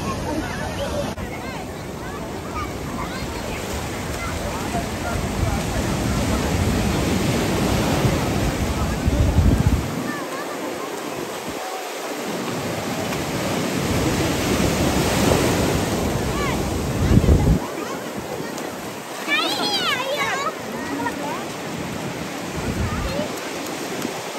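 Surf roaring and washing on Marina Beach, Chennai, under heavy wind buffeting the microphone, continuous and loud, with brief lulls between surges.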